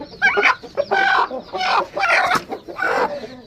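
Thai Aseel hens sitting on eggs give about five close, loud bursts of throaty clucking in quick succession.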